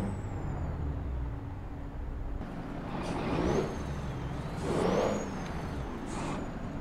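Truck engine idling and rumbling in American Truck Simulator, with two hissing air-brake bursts rising above the steady low drone, alone with no talk.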